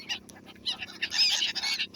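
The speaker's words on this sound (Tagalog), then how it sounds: "itong sinasabi nilang uwak, oh, itong tinatawag nilang tik-tik, itong itim. Maingay ito" Noisy black crows in Dubai in the afternoon give a flurry of harsh, close calls that overlap in quick bursts, with no talking.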